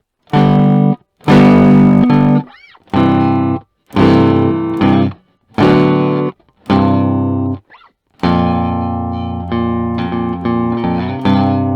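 A distorted six-string Fender Squier Classic Vibe Bass VI plays heavy sustained chords in separate bursts with short gaps, then rings out into a longer, thick fuzzy passage.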